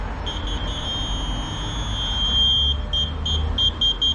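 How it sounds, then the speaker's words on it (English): Rear parking sensor on a 2016 VW Polo, a shrill steady electronic tone that breaks into quick repeated beeps, heard over a low idling engine rumble. "What we got here is a VW Polo 2016 installed with rear parking sensors."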